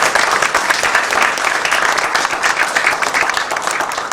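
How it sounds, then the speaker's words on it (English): An audience at a community program gives a loud, steady round of applause, dense clapping filling the whole stretch without a break. "I think we have to really give a round of applause to Mr."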